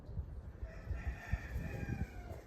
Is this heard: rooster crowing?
yes